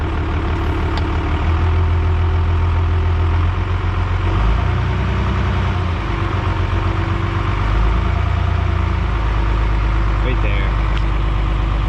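Cummins diesel truck engine running at high idle, a loud, steady low rumble that continues unbroken throughout, close by.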